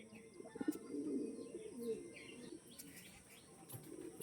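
High-quality pigeons with deep red eyes coo softly and repeatedly at close range, low murmuring calls with a few faint chirps and rustles in a quiet setting.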